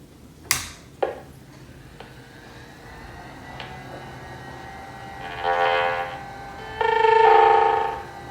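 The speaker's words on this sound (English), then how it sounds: "it's still making the sad Mac noise" A couple of sharp clicks lead into a quiet pause. Then a Macintosh LC's distorted, buzzy sad Mac error chime sounds in two parts, each a short chord-like tone from the computer speaker.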